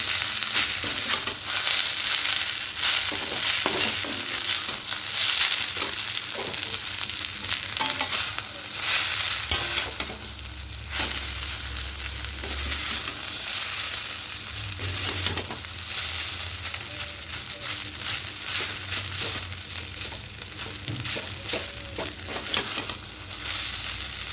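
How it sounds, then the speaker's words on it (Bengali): Egg bhujia being stirred into chowmein in a hot pan, a steady sizzle of frying noodles with repeated scraping and clattering strokes of a spatula throughout, close and fairly loud with no talk. "খুব ভালো করে মিশিয়ে নিচ্ছি"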